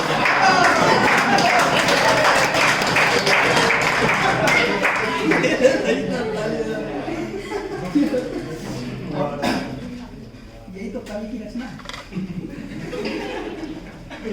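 Audience applause and some chuckling at a poetry event at IIT Patna, a dense crowd of claps filling the first half and then thinning out, with talk running under it.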